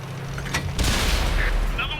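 Tank cannon fire in World of Tanks with a WZ-132 light tank, one heavy booming shot followed by rumbling, under a voice, close and loud.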